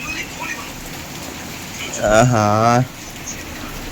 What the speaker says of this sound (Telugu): మనాలిలో కూడా మొత్తం వాన పడుతుంది చూడండి